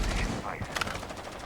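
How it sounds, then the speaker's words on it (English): Sharp bursts of Rainbow Six Siege gunfire crackle at moderate distance during an esports match, a couple of quick volleys over a low, busy background. "A lot of gunfire from Nip so far"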